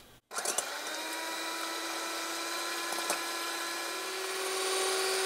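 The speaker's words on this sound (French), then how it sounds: "on va enfin monter les blancs en neige" Egg whites with a pinch of salt are whisked by an electric mixer for a pastiera napoletana, which starts abruptly and runs as a steady, loud whirring drone throughout.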